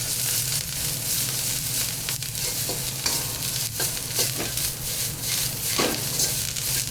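Chow mein noodles fry over maximum heat in a wok, a loud, dense sizzle running throughout with occasional tossing and scraping sounds, no talking.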